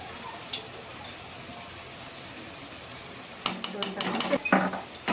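A pan holds paneer being mixed with Schezwan chutney. After a quiet stretch with one faint tap, a spoon clatters and scrapes against the pan in a quick cluster of close metallic clinks.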